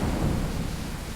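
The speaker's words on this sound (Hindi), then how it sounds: "आसमान में काले बादल छाए हुए थे। तेज बारिश सड़क को धो रही थी।" A heavy thunderstorm with pouring rain, a dense, steady rumbling wash of rain and low thunder filling the whole stretch at strong volume with no speech over it.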